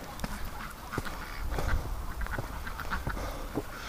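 Scattered quacks from several farm ducks repeat over a busy, noisy outdoor background in winter, fairly close.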